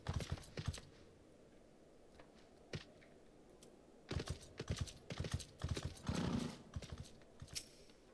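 Horse hooves clip-clopping in the Final Fantasy XIV online game, set in Ishgard, heard as irregular clusters of light, fairly faint steps over a low steady background, with no talking.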